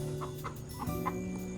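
Chicken on a farm clucking in a few short, moderately close bursts over steady background noise, with no talk.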